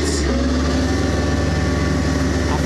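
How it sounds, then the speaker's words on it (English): Lawn mower engine running steadily close by while being used to blow leaves, a continuous buzzing drone with no breaks. "So I'm going to use my lawnmower to blow the leaves."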